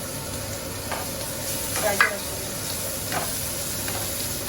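Capsicum and carrots frying in a mix of ghee, butter and sunflower oil, giving a steady close sizzle with a few soft stirring scrapes and clinks.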